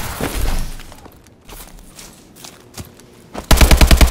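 Gunfire in Call of Duty: Advanced Warfare multiplayer: a few scattered distant shots and impacts, then a loud, close burst of rapid automatic fire with evenly spaced cracks that runs to the end.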